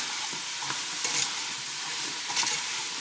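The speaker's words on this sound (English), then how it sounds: "Stir it all around, get it all mixed." Beef stew being stirred in a pot: a soft, continuous bubbling simmer with two brief louder scraping stirs of a spoon against the pot, close up and without speech.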